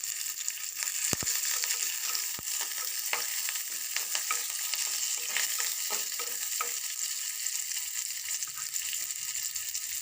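Curry leaves drop into hot oil in a home kitchen, a steady loud sizzle with crackling pops and a few sharp taps of a spoon against the pan, no talk.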